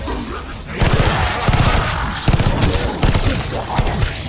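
Gunfire rattles in the video game Call of Duty Vanguard as rapid bursts of shots and thumps, loud and close, with a brief pause before the firing resumes.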